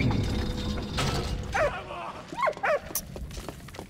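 A dog in the WWI video game Valiant Hearts: The Great War gives a few short yips and barks over a low rumbling game soundscape, fairly faint and close together near the end.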